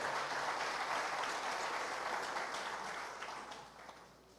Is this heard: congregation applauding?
yes